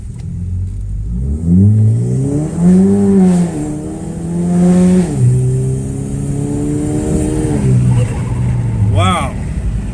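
A Chevrolet Cruze Gen 2 fitted with a TD025S hybrid turbo accelerates hard through the gears, its engine rising and falling in pitch with each shift, loud and close from inside the car while someone talks over it.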